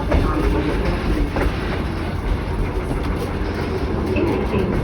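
Kuranda Scenic Railway train running, hauling carriages that include some over 100 years old and larger 1930s Sunshine Express cars: a steady, loud rumble of wheels and carriages with no clear breaks.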